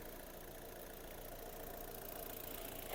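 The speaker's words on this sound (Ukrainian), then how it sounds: "Робота двигуна." An Opel Zafira engine idles steadily, a constant low mechanical rumble with slight rising intensity toward the end, no voices.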